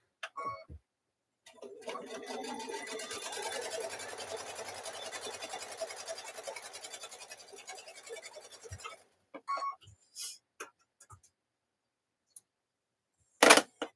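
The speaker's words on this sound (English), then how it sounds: "And then I'm stitching down that seam right there." A sewing machine runs in one steady burst of several seconds as it stitches down a quilt block seam, followed by a few faint clicks and handling taps in an otherwise quiet room.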